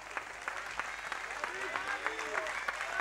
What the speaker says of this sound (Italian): E un applauso per i nostri tecnici.